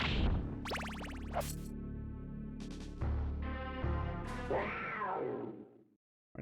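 A cat meows repeatedly in a 1996-era video game, the synthesized cries rising and falling over continuous game music and effects, fairly loud, before a brief drop to silence at the end.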